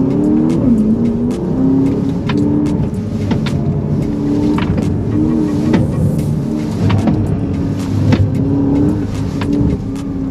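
Aston Martin sports car accelerating hard on the Shanghai F1 circuit during a track day, engine droning and rising through gears with steady, close, continuous roar and brief shifts in pitch.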